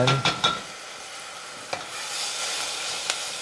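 Rice frying in a pan for spicy shrimp and rice, stirred with a few sharp scrapes at the start and later, over a steady close sizzle with no talk.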